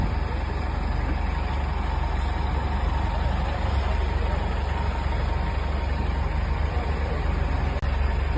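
A travel van's engine idles nearby, a steady loud low rumble that holds evenly throughout without revving.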